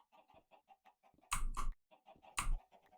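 Chickens clucking inside the Minecraft video game: a steady run of short, evenly spaced clucks with two louder, harsher bursts in the middle, close and clear with no talk.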